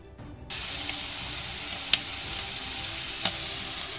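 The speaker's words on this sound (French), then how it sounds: "j'ai commencé d'abord à mettre le gingembre dans l'huile chaude" Ginger frying in hot oil in a saucepan, a steady broadband sizzle that starts abruptly and holds at an even level, close by, with a couple of faint clinks over it.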